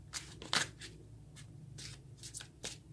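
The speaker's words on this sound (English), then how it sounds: "come on, shuffle nicely." Tarot cards being shuffled up close, a series of quick papery riffles and slaps in irregular bursts, with no talking.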